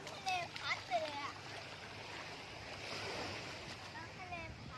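Sea waves wash onto Pattaya beach in a broad, steady surf hiss, with children's voices and splashing close by over the water.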